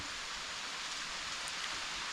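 Steady rain falling outdoors, a continuous soft hiss of drops on surfaces and leaves, fairly faint and even throughout with no voices.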